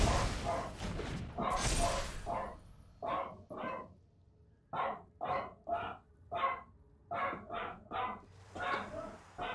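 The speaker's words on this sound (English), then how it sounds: "That's my dog." A dog barks in a quick series of repeated, evenly spaced woofs, fairly close but moderate in level, with a brief voice at the start.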